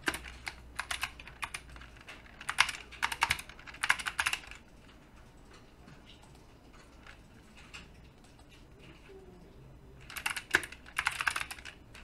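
Bursts of rapid keyboard typing while working in 3ds Max, clustered in the first few seconds and again near the end, with a quiet pause between; close and fairly soft, no talking.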